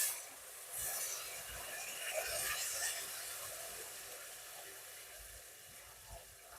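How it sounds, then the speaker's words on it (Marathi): Water poured into a vessel while preparing crab curry, a soft continuous rushing pour that swells early then settles, close and fairly quiet with no speech. "फक्त पाणी ओतायचं."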